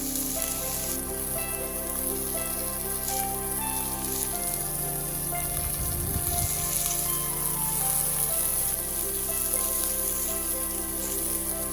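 Onions sweating in a pan for a coconut-milk salmon curry, giving a constant close sizzle with a steady hum underneath and a brief swell of stirring in the middle, no speech.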